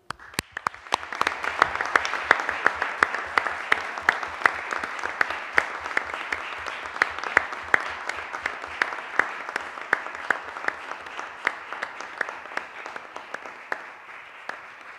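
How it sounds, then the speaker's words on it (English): At a school board meeting, a small audience gives a warm round of applause for a retiring staff member; individual claps are distinct, a steady patter that swells quickly and continues evenly without speech. "Please join me in giving a warm round of applause for Ms. Hine."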